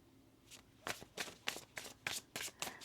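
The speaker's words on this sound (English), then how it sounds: "One more shuffle." Tarot cards being shuffled by hand during a reading, a run of crisp riffling bursts repeating in a steady rhythm, close and fairly quiet, with no talking.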